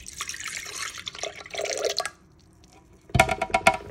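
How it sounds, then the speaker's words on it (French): Liquid mixture for a cold and flu home remedy poured into a blender, heard as splashing, dripping liquid in bursts, then a pause and a few clinking knocks near the end. "Versez votre mélange dans un blender."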